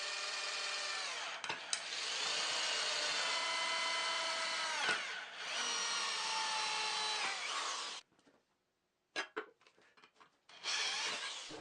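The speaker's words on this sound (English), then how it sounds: "But that means I have to drill some extra holes." A power drill bores holes in a table saw guard, a steady loud whine running for several seconds, then brief stops and short bursts before the motor spins up again, close and unaccompanied by talk.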